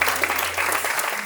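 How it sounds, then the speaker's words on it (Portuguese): A church congregation at a celebration service claps together, giving dense, continuous applause that stays loud and even for about a second with no talk over it. "Você pode aplaudir a Jesus por isso?"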